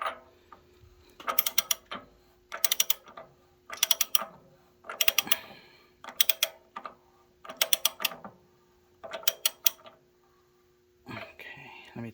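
A ratchet clicks in steady bursts while an anode rod is tightened on a Rheem water heater, about eight close, crisp runs of rapid clicks separated by short pauses, with a steady faint hum and brief talking at the end.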